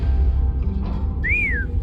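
A person whistles a single brief note that rises and falls, cut short in under half a second, over a low constant hum in a video game setting.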